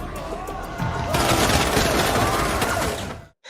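Rapid gunfire from a film scene of a student shooting at other students, a loud dense burst of shots lasting about three seconds, then a sudden cut to silence.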